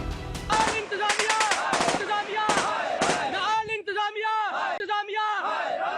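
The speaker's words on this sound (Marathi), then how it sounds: "सैन्यानं केलेल्या गोळीबारात पीओकेतील दहा जणांचा मृत्यू झालाय" Rapid bursts of gunfire crackle through a crowd of protesters in Pakistan-occupied Kashmir, with shouting voices and chanting rising between and beneath the shots, loud and close.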